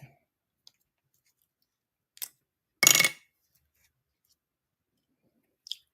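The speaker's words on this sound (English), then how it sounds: "Ribbon scissors." A single crisp snip of ribbon scissors cutting stands out in near silence, surrounded by a few faint clicks and taps.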